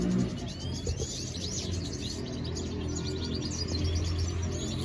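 Goldfinches in a breeding cage chirp and tweet in quick, bright, overlapping bursts, close and lively, continuing over a low background hum.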